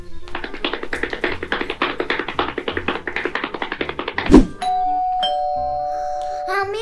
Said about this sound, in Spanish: están tocando el timbre